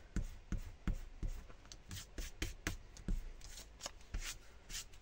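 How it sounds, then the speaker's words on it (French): Quick, soft rubbing strokes of an eraser on scrapbook paper, close and quiet, coming in short uneven bursts with no voices. "je vais gommer tout ça ici"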